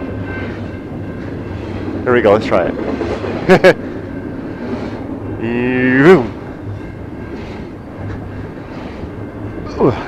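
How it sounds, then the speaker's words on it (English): A train rumbles steadily close by with rail noise and a loud squeal or horn-like burst near the middle, while someone talks over it. "I wonder if I can touch this train."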